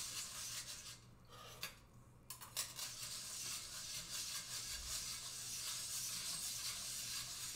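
Ingredients are whisked together in a bowl, giving quiet scraping and light clinking of metal against the bowl, with a few brief sharper taps, all fairly soft and close.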